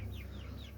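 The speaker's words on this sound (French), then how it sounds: "5 poules et 4 coqs" Marans hens and roosters cluck softly in a backyard flock, a few short rising calls over a low steady hum, faint and somewhat distant.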